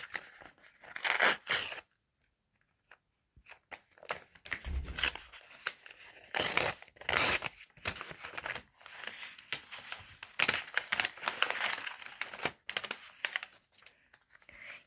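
A paper surprise gift packet is unwrapped up close, with crisp crinkling and tearing in irregular bursts separated by short quiet pauses.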